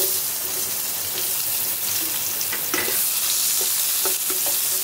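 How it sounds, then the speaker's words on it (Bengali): Chopped onions with black cumin seeds sizzle in hot oil in a pan after fish has been fried, a steady close crackle with occasional stirring scrapes and pops. "পেঁয়াজগুলো একটু লাল লাল করে ভাজা হয়ে যাবে।"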